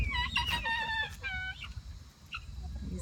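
Chickens and a rooster cluck and squawk nearby in a farmyard with turkeys, giving a few short harmonic calls over a low background rumble.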